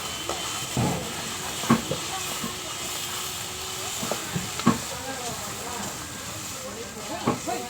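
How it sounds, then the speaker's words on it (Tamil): Ginger garlic paste sautés in a hot pan for an anchovy curry, giving a steady sizzling hiss with soft clinks and scrapes of stirring scattered throughout. A voice can be heard faintly beneath it. "இஞ்சி பூண்டு பேஸ்ட்டு வதக்கணும்."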